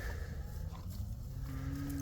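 A big beef heifer lowing on a farm, a low drawn-out moo that rises into a steady held tone near the end, heard close amid low rumbling background noise.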